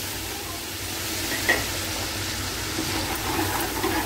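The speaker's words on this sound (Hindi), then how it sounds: "अब इसकी करूंगी खूब अच्छी सी भुनाई करूंगी मसाले की।" Onion masala frying and being stirred in a pan after a little water is added, giving a steady soft sizzle with faint scraping, fairly close and alone with no talk.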